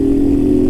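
A delivery rider's motorcycle engine drones loud and close, a steady low hum while the bike is moving along at speed, with no speech over it.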